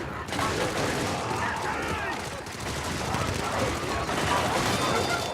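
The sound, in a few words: gunfire shooting at bug patrols in a video game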